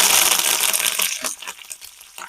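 Mustard seeds and curry leaves frying in hot oil in a pan for avalakki chitranna, a bright, crackling sizzle with sharp pops that starts loud and thins into scattered crackles.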